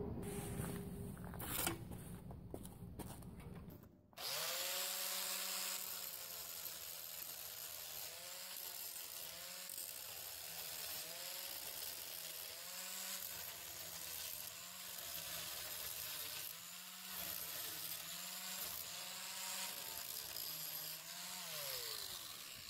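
Angle grinder with a flap disc grinding rust off an iron railing, a steady close abrasive rasp with rhythmic scraping strokes after a brief burst of other noise at the start.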